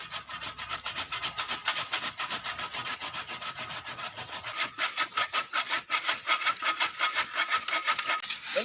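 A bamboo stem is cut with a blunt blade: loud, close, steady back-and-forth rasping strokes that repeat in a quick rhythm throughout, growing slightly stronger toward the end, with no talking.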